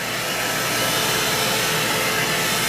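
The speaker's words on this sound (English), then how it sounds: "and as I go in with the dryer," A hair dryer blowing steadily and loudly at close range while stretched hair is dried, a constant broadband whoosh with no talk over it.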